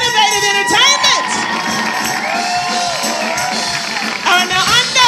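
A theater showcase audience roars with loud cheering, whoops and children's shouts at close range, the crowd noise steady and dense with bursts rising near the start and end.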